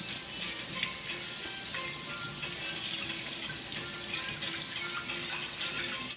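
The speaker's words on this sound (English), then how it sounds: "So the first thing I do is to wash this Paw Paw because it's a fruit, okay?" Running tap water splashes steadily over a papaya being washed in a sink, a close, continuous rushing stream with no talking.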